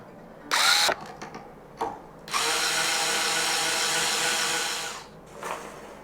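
A string winder turning the tuning peg of an acoustic guitar: a brief ratcheting burst, a couple of small clicks, then a sustained, even whirring rattle for about three seconds that fades out, close and moderately loud.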